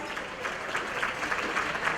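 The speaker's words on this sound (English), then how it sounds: "give them a round of applause" Guests at an NAACP Freedom Fund anniversary gala dinner applaud twin students Michaela and Maya, a soft, even roomful of clapping from a distance, steady for the whole stretch.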